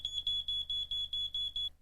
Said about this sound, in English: It's a smoke alarm, cheap and easy to install.